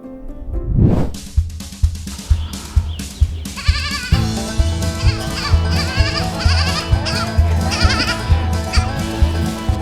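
Goats bleat at the Goats to Go farm in Georgetown, Massachusetts, with a loud, wavering cry near the start and further bleats repeating over a steady, rhythmic background.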